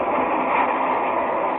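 Steady, dense rumble of a moving train, a continuous rolling roar with no breaks, heard from inside a carriage.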